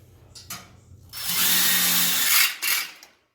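A power drill drives a framing screw into steel framing, whirring loudly for over a second after a couple of short clicks, then a brief second burst before stopping, close up.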